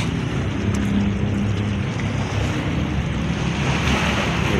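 Choppy sea waves wash and churn steadily around a small fishing boat, with heavy wind buffeting the microphone and a dense, constant roar of water close by.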